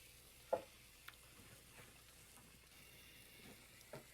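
Grated cheese sizzles in a hot non-stick pan for frico, a faint, low frying hiss broken by a few soft clicks and taps.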